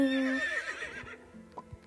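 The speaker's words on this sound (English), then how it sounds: "Please stop neighing." A horse in the video game Horse Life gives a loud, close whinny that shakes and falls in pitch, followed by a few soft thuds. No one speaks.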